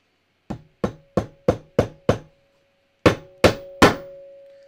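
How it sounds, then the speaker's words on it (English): A hammer strikes nine times while a DIY pressing surface is being built: six quick, evenly spaced hits, a short pause, then three louder blows, the last ringing out. "Let me do with my hammer."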